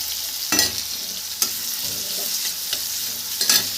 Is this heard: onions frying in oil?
yes